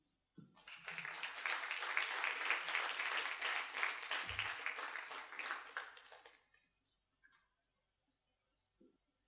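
An audience applauds to welcome a lecture speaker at the New Mexico Military Museum. Steady, dense clapping lasts about six seconds and then fades, with a few faint stray sounds afterward.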